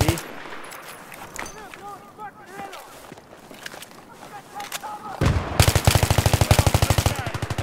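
Automatic gunfire in a team shooter match, with scattered shots and game noise under talk, then a loud close burst of rapid, evenly spaced machine-gun fire in the final seconds.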